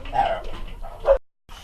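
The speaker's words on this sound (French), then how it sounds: "c'était mes chiens qui aboyaient" Dogs bark indoors in a few short, loud, close yaps. The barking breaks off into a brief silence and then starts again.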